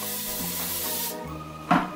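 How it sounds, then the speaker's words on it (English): A steady hiss of spray lasts about a second and then cuts off, followed by a short clatter nearby. "Give a good spray."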